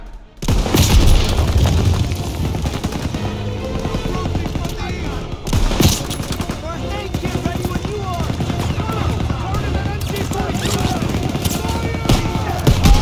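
Heavy gunfire and booming blasts in a WWII combat scene set during Operation Cobra in 1944, with an MG-42 nest nearby; dense, continuous bursts of shots and explosions fill the whole stretch, loud and close, with shouted voices mixed in.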